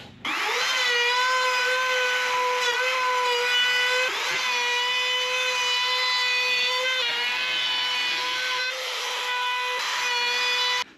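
A power sander whines at a steady high pitch while smoothing a wooden checkerboard with drawers. The sound is continuous and close, with a few brief dips in pitch and no talking.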